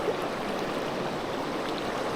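A strong, high-running river current flows past during a spinning-rod fishing trip, a steady, close and even rush of water with no voices.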